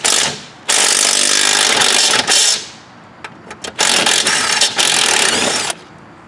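Mounting bolts removed from a DR Powerwagon dump cart with a power tool, loud close bursts of whirring driver and ratcheting, stopping and starting several times with short pauses between.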